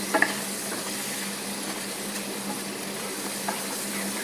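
Bottle gourd and drumstick pieces sizzling and being stirred in a pan, a steady soft frying hiss with a few faint clinks of a utensil, close and quiet.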